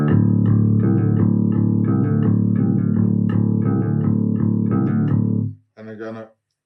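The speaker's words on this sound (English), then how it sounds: "What you're hearing now is the bridge pickup in passive mode with the tone full open" Passive bass guitar on its bridge pickup with the tone control fully open, played as a steady run of plucked notes with a strong low fundamental, then a brief pause and a short final phrase, close and alone.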